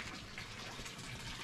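Water flows steadily somewhere outdoors on a short trip in Czechia, giving a faint, even rushing wash with no talk over it.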